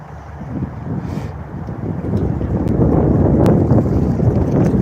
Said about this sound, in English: Nice breeze today